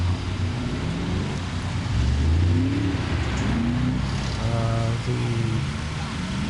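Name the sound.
race car engine revving as it drives by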